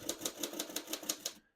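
Typing on a 1940 Royal Quiet De Luxe portable typewriter: about eight crisp, evenly spaced key strikes clack close by in a steady rhythm, then stop abruptly into silence.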